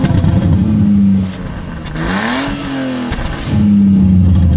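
A BMW E36 engine is revved loudly up close, its note rising and falling through a couple of throttle blips, with sharp exhaust crackles and pops scattered through the revs and no talk.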